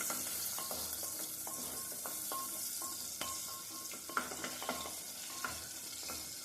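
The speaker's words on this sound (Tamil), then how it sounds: "இந்த சின்ன வெங்காயம் நல்லா வதங்கணும்" Small onions sauté in a pan for sambar rice, giving a steady, close sizzle throughout, with intermittent clinks and scrapes of a spoon stirring.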